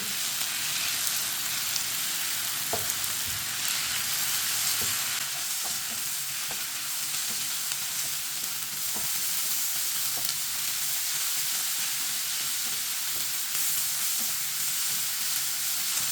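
Tomato masala with dried pomegranate seeds fries and is stirred in a hot pan, a steady close sizzle with scattered clicks and scrapes of the spoon running throughout, no voices.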